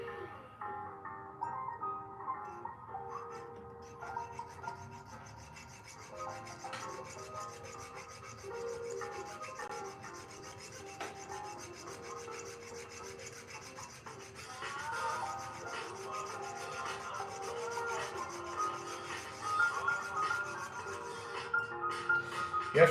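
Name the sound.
sawing silver wire to cut jump rings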